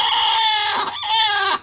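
An agitated hen clucks close by in a short, insistent burst of squawking calls, alone with no talk.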